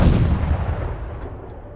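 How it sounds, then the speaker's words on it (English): In Arma 3, a tank blows up a vehicle with a single heavy, booming blast that rumbles and decays over a couple of seconds. "so I'm just gonna have the tank blow it up"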